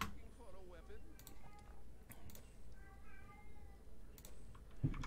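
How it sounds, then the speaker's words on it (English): A cat meows a few times in the fantasy role-playing game Might and Magic VI, mixed with keyboard typing and clicks against a steady low background. "Zone Kitty is crying again for no reason"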